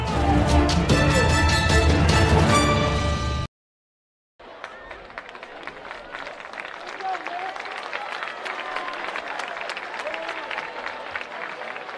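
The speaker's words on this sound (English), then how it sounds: "Marion Green getting a round of applause here from the fans here at Homestead" Football fans at Homestead applaud player Marion Green with a steady round of clapping and crowd noise at moderate distance, after a brief burst of music and a short silent gap.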